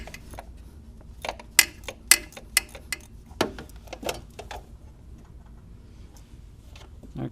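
Sharp metallic ratchet clicks and ticks come in irregular bursts as a wrench loosens a bolt on the oil filter housing of a 2002–2006 R50/R53 MINI Cooper, close up, then quieter mechanical fiddling.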